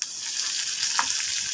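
Curry leaves, ginger, green chili and whole coriander crackle in hot oil in a pan, a loud, dense, continuous sizzle with a brief louder pop near the middle.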